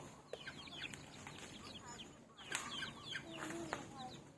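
Chickens clucking on a farm also kept with elephants and dogs, scattered short clucks and calls near and far across a noisy outdoor background, with faint voices mixed in.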